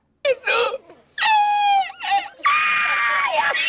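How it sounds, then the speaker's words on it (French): People screaming in a forest at a paid screaming retreat: loud, close, high-pitched wailing screams come in several bursts, the last drawn out and sustained. "4000 balles pour crier dans une forêt"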